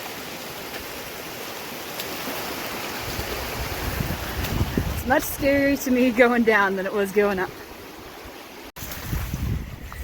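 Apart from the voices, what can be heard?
waterfalls and rushing stream in Death Valley canyon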